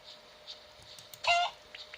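A single short chicken cluck from a video game sounds faintly amid quiet background, brief and soft, with a couple of tiny chirps around it.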